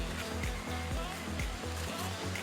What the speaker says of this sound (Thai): ได้ยินเสียงน้ำเสียงเป็นน้ำตกน้ำไหลนะครับ